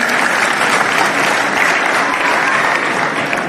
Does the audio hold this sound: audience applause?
yes